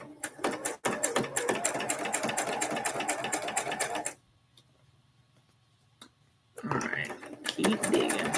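A sewing machine stitches a quilt block at a quarter-inch seam in rapid, close, loud bursts of ticking needle strokes, stopping for a couple of seconds of near silence before running again.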